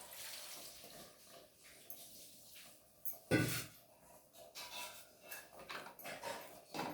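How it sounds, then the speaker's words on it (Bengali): Hot water poured into a pot of mutton curry with potatoes: a faint, steady watery pour with a brief louder splash midway, amid light kitchen clatter. "গরম জলটাই দিয়ে দেবো।"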